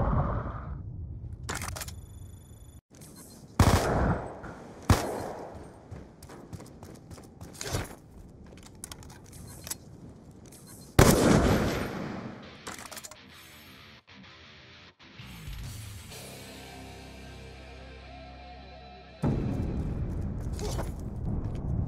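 Video game gunfire in a first-person shooter, loud sharp shots scattered irregularly across the stretch with bursts and pauses, some louder blasts and mechanical clatter between them, no talking.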